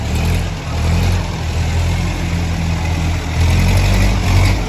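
A semi-trailer truck's diesel engine runs loud and steady nearby, a low rumble with slight swells in revs and no one speaking.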